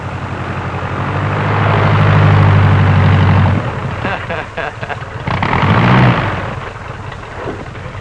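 A crop duster's propeller engine in a 1941 setting drones loudly as the plane passes low overhead, swells and then fades, and a second brief surge follows.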